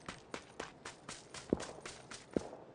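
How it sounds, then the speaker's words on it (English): Footsteps in the video game PUBG, a steady run of about ten loud, crisp steps at an even pace, with two sharper heavier footfalls standing out near the middle and end. "Man, the footsteps are really loud."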